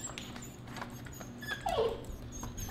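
A dog lets out a short, high whimper midway through, close but quiet, against a faint background hum with light handling noises.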